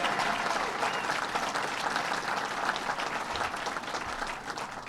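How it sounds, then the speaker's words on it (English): A press-conference crowd at Belmont Park applauds for the New York Islanders, a full, steady roar of many clapping hands that stays loud and even, easing slightly near the end. "Let's give him another round of applause."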